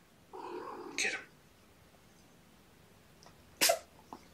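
A cat gives two short, sharp sneezes a few seconds apart, close by, with a quiet pause between them.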